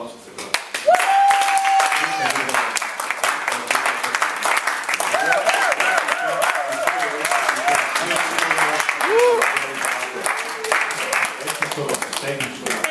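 A crowd at a family reunion gathering breaks into sustained applause, dense steady clapping that keeps going for the whole stretch, with a few voices calling out over it.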